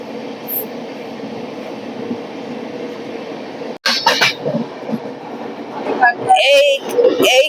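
A train passes through a 115 m tunnel in the Odisha hills, a steady rumbling roar that gives way to a sudden change in sound on leaving it, followed by clatter and a voice speaking near the end.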